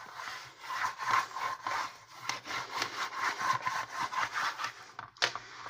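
A stylus burnishing paper onto a picture frame for a Halloween craft, a rapid back-and-forth scraping rub in close, rhythmic strokes, ending with one sharper scrape.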